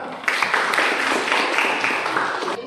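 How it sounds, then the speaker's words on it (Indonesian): A classroom group claps for the second team, a dense burst of hand clapping that starts abruptly after a short pause and continues steadily before tapering slightly. "Tepuk tangan di kelompok 2"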